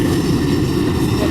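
A Jet2 airliner's engines roar before takeoff, a loud, steady, broadband rumble and whine heard up close without a break.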